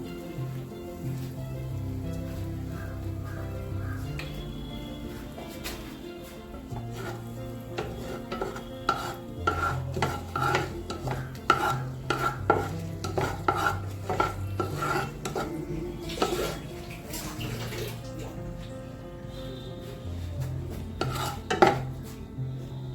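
A pinch of asafoetida goes into hot oil for a tempering and is stirred, giving a steady sizzle with repeated metal spoon scrapes and clinks against the pan.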